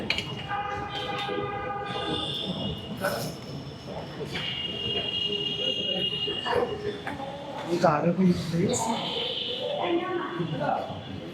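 A metro train rumbles through an elevated station at Diabari, with sustained high squealing and tonal hum under a steady wash of crowd noise while people talk close by.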